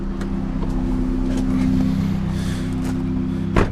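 A 1995 Nissan Micra 4-door with a 1.0L engine and a broken exhaust idles with a steady, raspy low drone and a few faint knocks, ending on a short louder pop.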